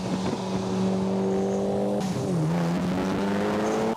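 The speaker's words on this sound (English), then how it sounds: "have the seller give the car a quick rev while you have a look at the back for any smoke whilst the engine's under load" A Mitsubishi Evo 8 engine idles and is blipped in a quick rev while stationary, the note rising and falling once or twice, close and loud with no talking.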